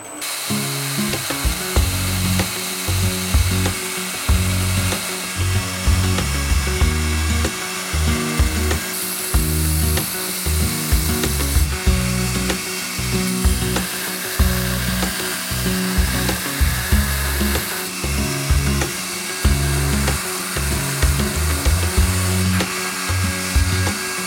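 Steady, loud abrasive grinding of a knife blade forged from flat bar, a continuous harsh rasp with rhythmic pulsing strokes throughout, no voices.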